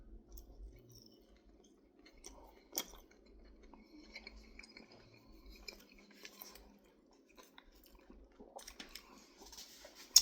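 Close, quiet crunching of Jack in the Box Nashville hot popcorn chicken being chewed, with soft irregular bites and a few sharper crunches spread through, no talk.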